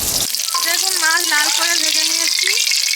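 Bhetki fish frying in hot oil gives a loud, steady, close sizzle throughout, with a person talking over it.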